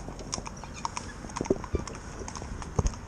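Hooves clip-clop on a hard surface as a competition driving pair of horses is harnessed and shifts about, a few uneven, close steps with soft talk in the background.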